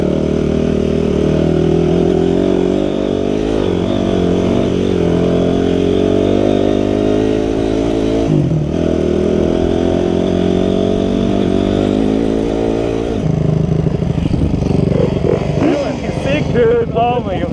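A Honda CRF dirt bike rides a forest trail in Bunyip State Forest, its engine buzzing loud and close and rising and falling with throttle changes throughout, with no voices over it.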